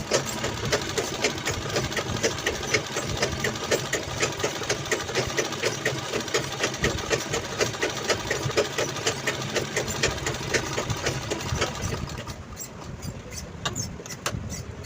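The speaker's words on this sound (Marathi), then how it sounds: "ही जी मी शिलाई लावते आहे याच्यावरती, ती 3 नंबरची शिलाई लावत आहे." A sewing machine runs steadily on a stitch setting of 3, sewing a cheap cloth mobile pouch, with a fast, even mechanical chatter close by before it slows and stops near the end.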